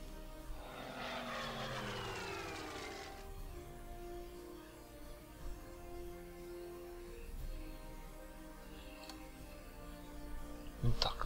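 Fighter aircraft engines in the Order of Battle strategy game roar up and sweep past in the first few seconds, then fade into a quieter engine drone while someone talks over them.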